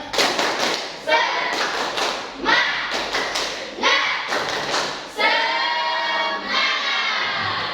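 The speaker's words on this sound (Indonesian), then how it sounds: "Tepuk semangat" A group performs the rhythmic Indonesian spirit clap, tepuk semangat, with patterned bursts of clapping and thumps alongside chanted voices, ending in a sustained flurry of applause.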